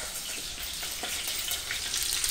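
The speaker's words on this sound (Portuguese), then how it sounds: "Tô fritando o osso também," Seasoned piaba fish and their bones fry in a covered pan with a steady, close crackling sizzle and scattered pops running through the whole stretch, with no talk.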